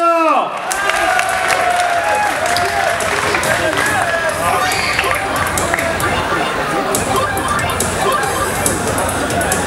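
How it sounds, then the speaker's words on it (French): A crowd at a King of Fighters 98 tournament final applauds and cheers the two finalists, steady clapping and crowd noise throughout with voices mixed in. "On applaudit les deux finalistes, Syed et Mohamed."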